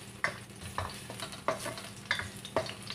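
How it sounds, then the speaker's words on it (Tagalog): Vegetables such as chayote, cauliflower and carrots with onion are sautéed in a pan, with a spatula scraping and stirring in regular strokes about every half second over a soft, steady sizzle. "Yung aking pagluluto ng gulay. Gisa."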